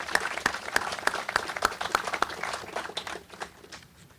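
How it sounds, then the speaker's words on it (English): A round of applause at a Memorial Day ceremony honoring veterans, with strong individual claps standing out at first over a wider crowd that gradually fades away. "I think that deserves a round of applause."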